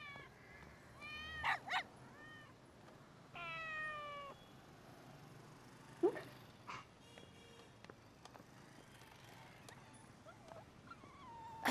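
A kitten in a pet shop meows several times, with short cries followed by a longer wavering meow, faint and quiet against a low background hum.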